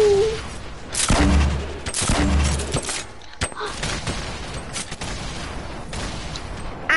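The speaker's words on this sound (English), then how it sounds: "I got this rock launcher." Rock launcher fired in a video game, a few sharp heavy blasts and impacts with crackling debris, loud early then sparser, with occasional talk.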